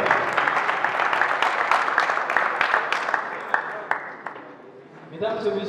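Audience applause greets a school debate team being introduced at a French-language debate on a common African currency, a steady wash of dense clapping that thins and fades near the end.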